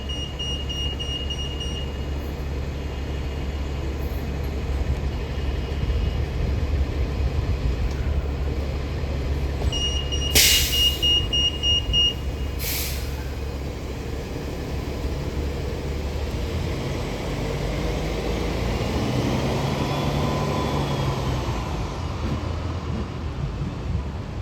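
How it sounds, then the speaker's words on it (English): A Caltrain commuter train pulls out of Millbrae Station on a morning run toward San Francisco, giving a steady low rumble with two loud bursts of horn or bell tones near the middle. The rumble shifts slowly as the train moves off. "here goes Caltrain 113 to 4th and King Street station in San Francisco, making all stops."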